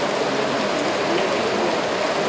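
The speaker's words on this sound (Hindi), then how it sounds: "उसका पानी उछल के पत्तों पे गिर रहा है, पत्ते आवाज़ कर रहे हैं" Steady fountain water splashes continuously onto leaves at the Saheliyon ki Bari garden in Udaipur, a dense, rain-like hiss that stays close and even throughout.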